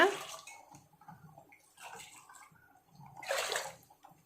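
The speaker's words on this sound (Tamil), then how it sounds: "கடலைப்பருப்பு முங்குற அளவுக்கு தண்ணி ஊற்றிக்கோங்க." Water is poured into a pressure cooker over chana dal, giving intermittent splashing bursts, with the strongest pour near the end and quieter trickles between.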